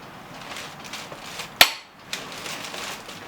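Single sharp click of a torque wrench reaching 220 foot-pounds while tightening a car wheel, loud and close against quiet background noise, with a fainter knock shortly after.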